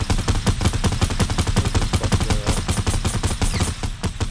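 Continuous rapid automatic gunfire in a shooter video game, loud and close, with dense rhythmic bursts that never pause across the whole stretch.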